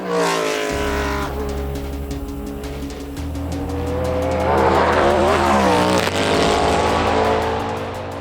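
A Cadillac GTP prototype race car pulls out of the pits at Road Atlanta, its engine droning loud and steady, then rising in pitch as it accelerates away on cold tires.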